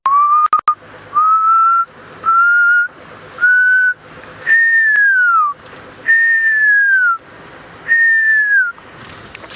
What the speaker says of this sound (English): the pearl spotted owl. It's got that beautiful whistling call